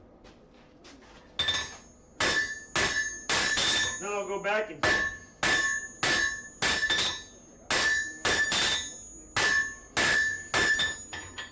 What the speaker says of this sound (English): That's because I'm driving the corner of my hammer in.